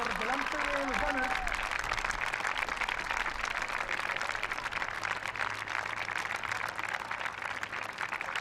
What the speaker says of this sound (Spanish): Un aplauso, por favor, delante de los banners.